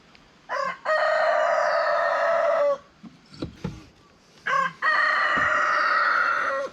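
A rooster crows loudly twice nearby, each long drawn-out call separated by a short pause with a few softer clucks and rustles between.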